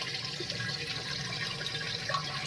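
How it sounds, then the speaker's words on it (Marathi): Water runs steadily into a drum on a farm, a continuous rushing, splashing fill heard close and even throughout, with no voices. "सुरुवातीला आपण पाणी भरण्यासाठी ड्रम लावून टाकला."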